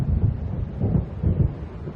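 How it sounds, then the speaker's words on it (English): Low distant rumbles of thunder from an approaching storm near a lakeside island in the video game Alan Wake, rolling in soft repeated swells with no voices. "It seems there's a storm coming."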